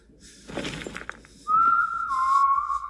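A person whistles a single loud, steady note that begins halfway through and holds to the end, dipping slightly lower partway, after a stretch of muffled noise and rustling.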